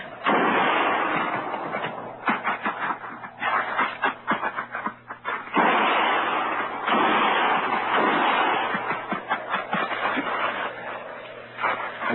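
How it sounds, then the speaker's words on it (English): Gunfire sound effects in a 1958 Western radio drama: a rapid series of loud, sharp shots and cracks, some in quick bursts, with brief gaps and a dog barking among them, all on a narrow, band-limited old broadcast recording. "Start firing."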